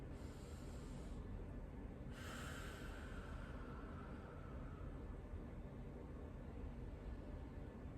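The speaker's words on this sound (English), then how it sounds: "And take a deep breath here." A person takes a deep breath during an AP lumbar spine X-ray positioning, heard as a soft breathy inhale with a brief sharper intake around two seconds in, over steady background hiss.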